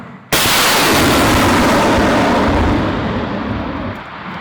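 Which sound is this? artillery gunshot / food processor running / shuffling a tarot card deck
artillery gunshot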